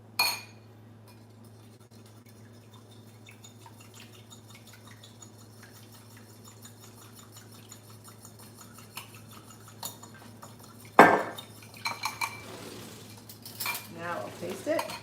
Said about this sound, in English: And I'm going to whisk in my olive oil.